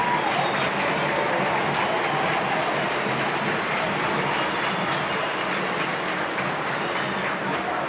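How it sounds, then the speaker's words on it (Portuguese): Stadium crowd at a Fortaleza versus Ceará football final applauding a young player as he is substituted off, a steady broad wash of clapping and crowd noise that stays loud throughout with no break. "Aplausos para o jovem atleta Hércules"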